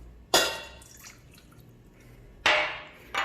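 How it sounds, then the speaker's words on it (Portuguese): Water is added to flour and yeast for homemade hamburger bun dough, heard as two short, close splashing bursts that fade quickly, with a quiet kitchen in between. "adiciona a água"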